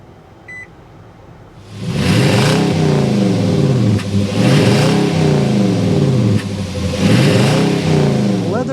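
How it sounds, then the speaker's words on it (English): A 2024 Nissan Titan Platinum Reserve truck engine cranks and catches after a short quiet moment, then settles into a loud, steady rumbling exhaust note with rhythmic swells in pitch, close by. "start it up so you can hear that exhaust note"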